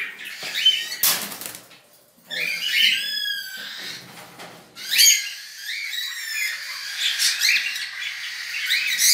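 A newly acquired pair of reverse (pied) cockatiels, a cinnamon pearl hen among them, gives bright chirps and squawks in bursts, mixed with close wing flutters and cage rustling.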